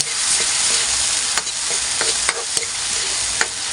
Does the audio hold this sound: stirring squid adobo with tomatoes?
yes